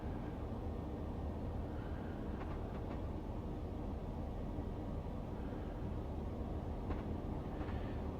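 A Class 395 train running in Train Simulator Classic, a steady loud rumble of the moving train with faint clicks and a soft tonal whine rising at times, no speech.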